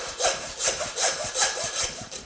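A hand saw rasps through lamb leg bone in quick, steady back-and-forth strokes, close and distinct, with no voices.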